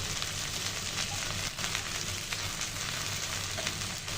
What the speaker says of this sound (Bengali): ভেন্ডিটা কিছুক্ষণ তেলে ভেজে নিয়েছি